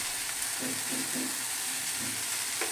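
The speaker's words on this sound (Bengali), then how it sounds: "আবারও বেশ কিছুক্ষণ আমি খুব ভালো করে নেড়ে চেড়ে নেব" Tomato and spices with turmeric and salt fry in a hot pan, a steady sizzle running throughout while a spoon scrapes and stirs in several short, rhythmic strokes.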